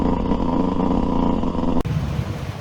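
A Yamaha YZ125 two-stroke dirt bike with a Pro Circuit exhaust pipe rides past, its engine buzzing steadily and loud, then the tone drops sharply near the end as it moves away or the throttle closes.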